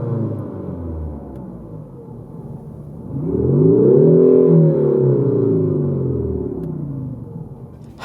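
A Peugeot 308 1.6 BlueHDi diesel engine drones low, then revs up into a louder, boomy, rasping exhaust note, artificially amplified in its sport mode, that swells and slowly settles back down.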